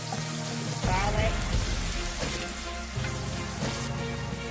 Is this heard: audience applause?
no